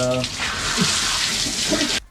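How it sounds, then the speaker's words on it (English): Shower water running in a bathroom in Negombo, Sri Lanka: a broad, continuous rushing spray that holds steady for about two seconds and then cuts off abruptly, with a faint tonal hum at the start and no clear speech. "The shower has two options. One is normal, and then one is"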